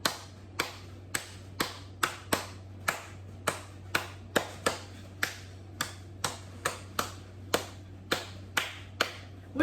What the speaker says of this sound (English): So let's clap our hands together.